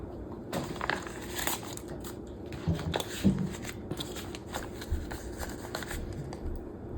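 Paper cash bills are handled and stuffed into a paper savings envelope, a close run of soft rustling, crinkling and flicking sounds for about seven seconds.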